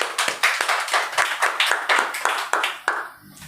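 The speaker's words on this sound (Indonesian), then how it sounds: "Kasih tepuk tangan dong." A crowd of people clapping steadily, with sharp repeated peaks in the applause that fades out near the end.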